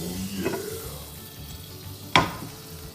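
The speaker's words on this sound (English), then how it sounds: "let's first hear that sizzle." Butter sizzles in a frying pan, a soft, steady hiss of frying fat close by, broken by a clatter of utensil or pan around midway.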